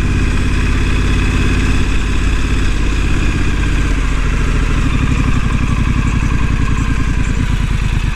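A Triumph Street Scrambler motorcycle engine runs steadily off-road on a Trans Euro Trail route in Belgium, giving a loud, close, continuous low throb with a rhythmic pulse throughout and no talking.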